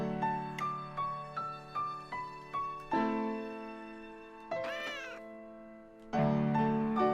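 A cat named Fluffy meows in a run of short, regular cries that give way to longer, louder, drawn-out yowls. The cat sounds close and is heard alone.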